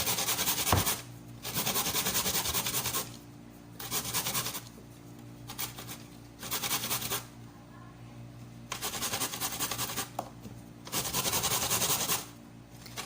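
A carrot is rubbed against a grater in repeated bursts of close, raspy scraping, each lasting a second or two and separated by short pauses.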